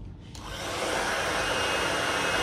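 A hair blow dryer switches on and runs with a loud, steady whooshing roar of blowing air, close up and continuous, with no talking.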